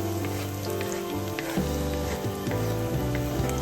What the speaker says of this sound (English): thinly sliced onions and saute until it's dark brown in color